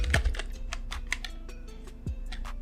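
Steady clicking keystrokes on a computer keyboard while entering code, a quick run of crisp taps, close and clear with no talking.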